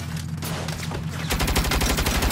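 Mounted turret fire in the Saints Row video game: sparse shots give way to a dense, rapid machine-gun burst that rattles loud and close, with no talk over it.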